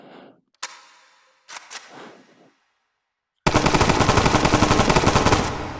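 Bizon submachine gun with laser and flashlight attachments fired in the VR game H3VR: a few isolated clicks and sharp handling knocks, then a loud, sustained rapid-fire burst of evenly spaced shots lasting over two seconds.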